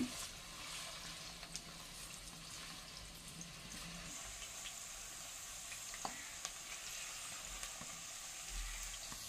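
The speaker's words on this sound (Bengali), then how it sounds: "আলুগুলো আমি ভালো করে ভেজে নেব" Quartered potato pieces fry in hot oil, giving a steady, fairly quiet sizzle and crackle that continues evenly throughout, with no voices.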